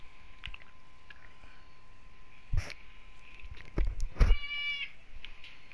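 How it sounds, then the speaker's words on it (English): A house cat meows a few short times indoors, faint and intermittent against a quiet background with light game sounds and occasional bumps. "Oh, I gotta let my cat out."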